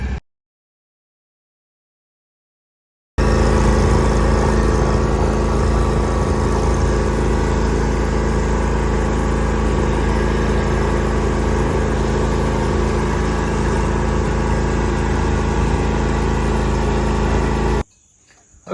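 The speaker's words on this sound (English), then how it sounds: "So yeah, let's get to mowing" A lawn mower engine drones steadily while mowing with a Wright-made Velke sulky attached, starting abruptly after a few seconds of silence and running loud and even before cutting off near the end.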